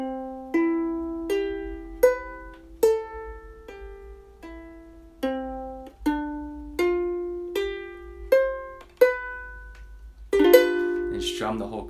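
Slow playing of the opening two bars of a song on guitar: a series of about a dozen clear single plucked notes at an even, unhurried pace, each ringing out and decaying, ending in a fuller strummed chord.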